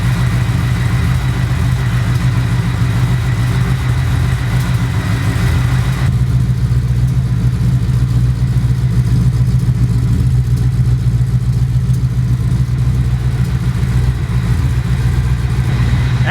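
Ford Mustang engine idling through a homemade stainless steel X-pipe exhaust, a steady, fairly loud low rumble that holds evenly throughout with no voices over it.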